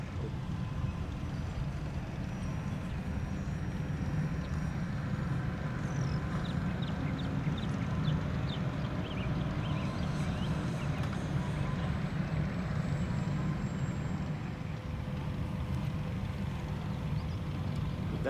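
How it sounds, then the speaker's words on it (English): A ParkZone Sport Cub radio-controlled model airplane flying overhead, its small electric motor and propeller giving a faint steady drone against outdoor background noise. "that's a nice flying airplane right there."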